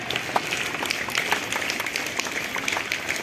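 Students and guests at a school Republic Day celebration clap together in a steady, dense burst of applause that keeps going evenly for several seconds, with no pause.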